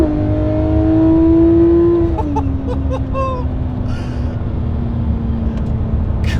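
A Porsche 911 GT3 RS engine revs up loudly with a rising, then steady pitch, drowning out a constant road rumble as it pulls hard onto a motorway.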